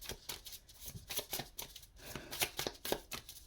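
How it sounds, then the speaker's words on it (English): A deck of tarot cards is shuffled close by in repeated quick riffling bursts, steady and rhythmic, with no talking. "I'll be shuffling the next deck too"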